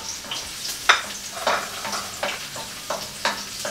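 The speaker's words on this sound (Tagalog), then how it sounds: "Gisa ulit tayo magsisimula. Medyo papulahin lang po natin yung bawang." Garlic sautés in hot oil in a pan for Filipino pork guisantes, a soft sizzle broken by rhythmic scraping stir strokes about every half second, close and fairly quiet with no talking.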